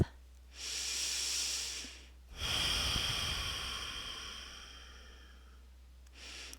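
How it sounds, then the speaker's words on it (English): Powerful breaths in and out through the nose during a yoga routine: a long forceful inhale, a pause, then a longer rushing exhale and the start of another breath, close and clear with no talking. "taking a nice deep inhale through your nose and exhaling through your nose. It should be a nice, powerful,"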